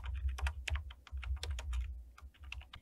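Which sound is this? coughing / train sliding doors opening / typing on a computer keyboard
typing on a computer keyboard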